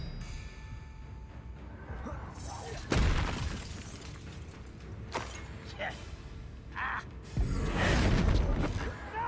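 Magic spell effects from the Hogwarts Legacy video game: sharp shattering bursts and booming impacts at about 3, 5 and 8 seconds over a steady game soundscape, with a voice calling out between them.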